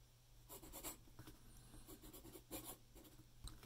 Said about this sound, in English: I like to write with the Post-it.